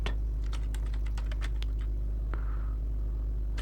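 Computer keyboard keys clicking in a quick run of about a dozen taps, then a single final keystroke, over a steady low hum.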